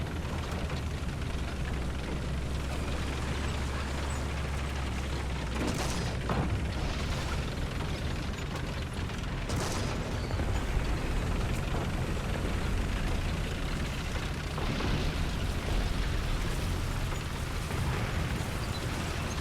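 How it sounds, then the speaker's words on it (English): StuG tank driving in War Thunder ground battles, a steady low engine rumble with clanking tracks running close and continuous, with occasional distant bursts and booms rising over the drone. "So here we are, we're driving around in our Stug."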